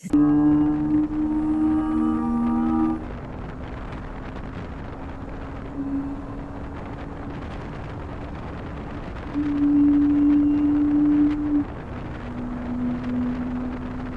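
A 2025 Bajaj Avenger 160 Street motorcycle with a 160 cc engine is underway on a ride. A steady engine drone runs under wind rush, and the pitch shifts as the rider changes gear and throttle.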